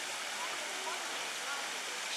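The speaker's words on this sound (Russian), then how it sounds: "Что у нас появился такой фонтан в парке Федорова." A fountain in Fedorov Park splashes in the evening, a faint, even wash of falling water heard from a distance without a break.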